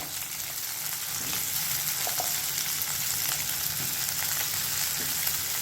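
Sliced okra and potato strips fry with onions in a pan for an aloo bhindi side dish, giving a steady, dense sizzle throughout with faint scrapes, close and even in loudness, no talking.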